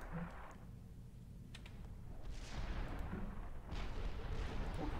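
Artillery fire in the Supreme Commander 2 strategy game, heard as low rumbling booms and scattered blasts over a steady background, fairly faint and building toward the end.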